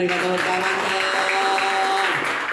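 A church congregation applauds during a sermon, a steady wash of clapping lasting the whole moment, with sustained musical tones ringing underneath.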